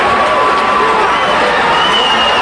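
A boxing arena crowd in upstate New York roars for hometown heavyweight Mike Tyson, a steady loud wash of cheering and shouting that fills the whole moment without a break.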